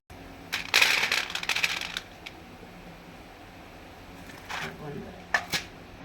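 Crisp crunching and rustling as dry fried flour gatta snacks are handled, in a burst of clatter followed by a few scattered crackles, with no talking.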